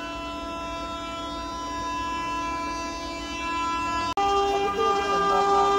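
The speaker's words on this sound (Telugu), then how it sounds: "అదిగో వెనకాల హాంకింగ్ వినిపిస్తుంది" A train horn sounds from behind on the neighbouring track, a sustained, steady tone held for several seconds, then cutting off sharply before a second burst of horn; a faint voice is briefly present underneath.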